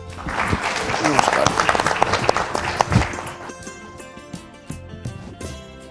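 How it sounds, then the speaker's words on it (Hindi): An audience at a talk on quitting addiction breaks into applause, with a burst of clapping that peaks early and then trails off, followed by music and a quieter room. "जोरदार तालियों के साथ"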